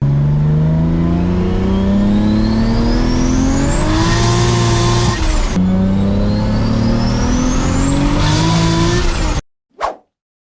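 A Toyota Supra MK4 accelerates hard, its engine climbing in pitch through gears with loud revving from inside the car, then cutting off abruptly before a brief whoosh.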